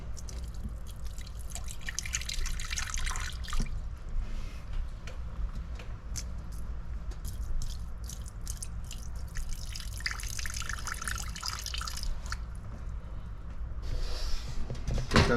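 Fresh water poured for tortoises in a large custom habitat, a steady trickling and splashing that runs continuously with a few dripping bursts and light clattering, no voices.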